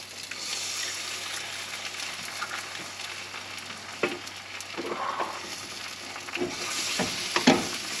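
Piperade vegetables (piperada vasca) frying in a pan: a steady, close sizzle with occasional utensil clinks and scrapes that grow busier toward the end.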